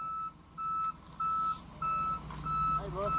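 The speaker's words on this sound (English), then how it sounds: "He gonna pull you straight to the truck." A truck beeps rhythmically in short, evenly spaced bursts during an off-road recovery of a stuck vehicle. A low engine rumble runs underneath the beeps.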